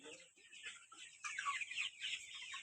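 Chickens cluck steadily in a rural poultry pen, with overlapping calls that grow busier partway through, close and fairly loud with no voices over them.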